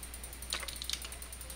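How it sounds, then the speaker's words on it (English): Brief flurry of computer keyboard typing during a Minecraft game, a few soft close key clicks over steady background hum. "I was getting shot before I could even finish typing."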